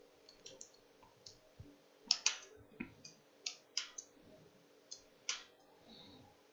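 Keys clicking as code is typed during a Java coding interview, irregular close taps in small clusters with pauses between, fairly quiet.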